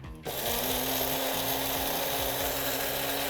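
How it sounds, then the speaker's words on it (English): An electric coffee or spice grinder whirs steadily as it grinds pumpkin spice blend, a loud continuous motor drone that starts abruptly after a brief quiet moment and holds at an even pitch throughout. "So let's get it into a coffee or spice grinder."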